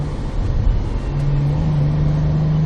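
A car accelerates out of a corner on a race track, its engine note climbing steadily into a loud, close, sustained drone from inside the cabin.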